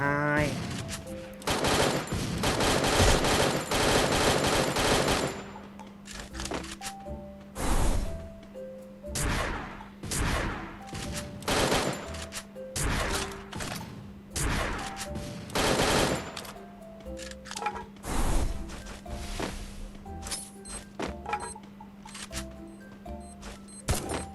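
Repeated bursts of Bizon submachine gun fire in the Free Fire video game: rapid automatic volleys, loud and close, separated by short pauses, with a steady in-game hum and an occasional voice underneath.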